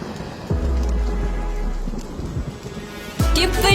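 Steady rain pours throughout, with two deep thunder rumbles rolling in, one near the start and a louder, closer crack near the end, no voices.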